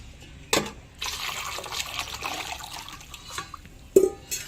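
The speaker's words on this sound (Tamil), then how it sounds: "நல்லா அந்த குடல் முந்துற முங்குற அளவுக்கு தண்ணி ஊற்றிடுங்க" Water splashes and gurgles steadily into a pot of tripe for a few seconds, with a sharper splash near the end; no talking.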